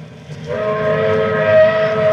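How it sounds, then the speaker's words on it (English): A train whistle sounds in a radio drama scene, a sustained steady tone that swells in after a brief pause and holds at moderate loudness with no talk. "It sounded like a train whistle."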